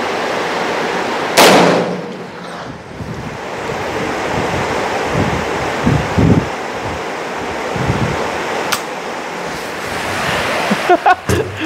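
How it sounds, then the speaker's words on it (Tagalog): Strong wind roars steadily into the microphone at an outdoor range where an M2 carbine is fired, with gusty rumbles and a few sharp knocks and crackles along the way. "lakas ng hangin."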